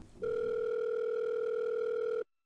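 A steady telephone dial tone plays on speakerphone for about two seconds, loud and alone, then cuts off abruptly.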